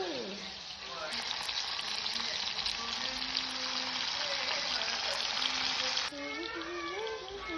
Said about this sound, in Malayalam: പിന്നെ നമ്മൾ തക്കാളി കുനുകുന അരിഞ്ഞിട്ട് അത് എണ്ണയിലോട്ട് ഇട്ട് കൊടുത്ത് നന്നായിട്ടൊന്ന് ഇളക്കണം